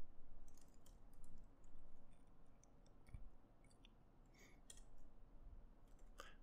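Someone types git commands into a computer keyboard. Faint, scattered key clicks come in small bursts over a quiet background hiss.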